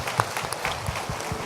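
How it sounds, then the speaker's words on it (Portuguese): A church congregation applauding, scattered claps from a group, fairly close, with a few sharper individual hand claps standing out in the brief burst. "Vamos aplaudir, irmãos, cada um que esteve aqui."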